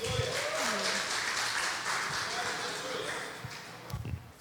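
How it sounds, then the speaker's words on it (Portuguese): A church congregation applauds for a pastor at a family worship service, steady broadband clapping filling the room for several seconds with voices mixed in. "Uma salva de palmas"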